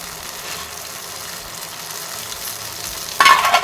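Tomatoes fry for tomato chutney with a steady, fairly loud sizzle in the pan, then a sudden sharper burst of crackling near the end, with no talking.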